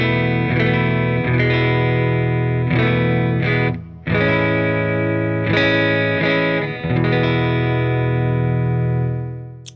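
A McGinney Skylark electric guitar runs in stereo through a Vongon Paragraphs II low-pass filter effects pedal into a miked Silktone amp and a Kemper, playing sustained, heavily processed chords with rhythmic re-strikes, loud and alone.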